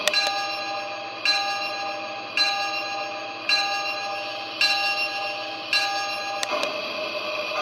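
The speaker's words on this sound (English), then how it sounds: "And then there's the bell, which is activated by pressing the bell button." Bell of a Lionel LionChief Chicago & North Western steam train set, clanging in six evenly spaced metallic strikes with ringing overtones, close and clear with no talk.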